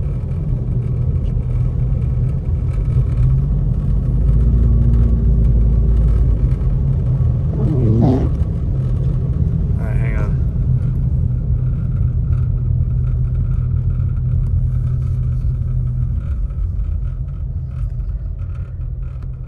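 A car driving across town on snowy roads in Big Bear Lake, California, heard from inside as a steady, close engine and road rumble, with a few brief higher scraping sounds partway through.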